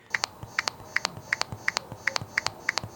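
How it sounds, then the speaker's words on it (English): Crisp, regular keyboard click sounds from the speaker of an AULA L99 keyboard's touchpad tap out in quick pairs, close and clear over a low hum. "you can hear key presses on this touchpad here"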